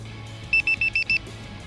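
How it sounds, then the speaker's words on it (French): Five short, high electronic beeps from an RC plane battery alarm sound in quick, even succession over a low background hum. "je vais mettre mon buteur, mon alarme de batterie"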